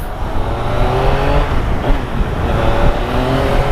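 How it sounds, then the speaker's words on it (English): A 2016 Yamaha FZ-09 (MT-09) motorcycle engine growls loudly and steadily on a mountain ride, its revs rising and dipping with wind noise throughout, and no talking. "that's the engine right there"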